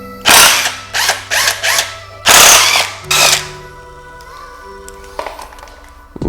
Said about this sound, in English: I don't even know why I was trying with the ratchet first